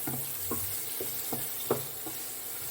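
Sliced onion dropped into hot oil in a pan for paneer butter masala, giving a steady soft sizzle broken by several quick stirring scrapes and taps at an even pace, close and fairly quiet.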